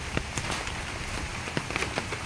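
Steady rain falling and pattering on a surface, an even hiss with scattered sharper drop ticks, close and moderately loud, with no voices.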